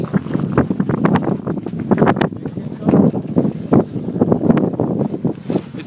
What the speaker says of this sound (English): It's probably very windy.